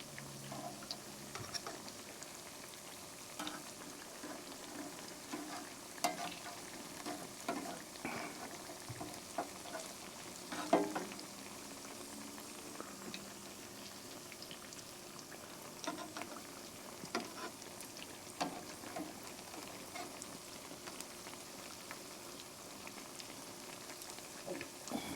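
Soft, steady crackling and popping of corn fritters frying in hot oil, close but quiet, with scattered sharper pops throughout.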